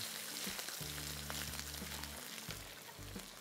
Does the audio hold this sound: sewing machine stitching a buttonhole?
no